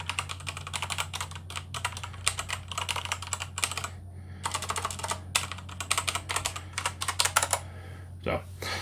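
Switches on a Gamesir VX2 gaming keypad are pressed in fast, uneven bursts of clicky taps, close and crisp, with brief pauses between flurries.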